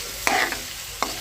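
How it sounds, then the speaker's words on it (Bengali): Broiler chicken meat frying in a pan while being stirred, with a few sharp scraping strokes of the spoon over a soft, steady sizzle; close and fairly quiet, no voices. "মাংসটা কিন্তু আমার একদম ভাজা হয়ে গেছে।"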